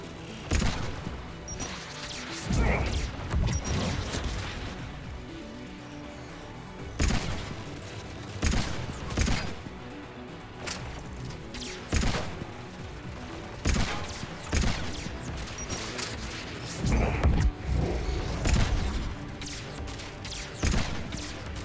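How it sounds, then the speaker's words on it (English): Pistol gunfire against Geth enemies in the sci-fi shooter Mass Effect 3, powerful single shots and short clusters of sharp blasts at irregular intervals, each with a heavy booming tail, over ongoing combat ambience. "God, this pistol just destroys the Geth."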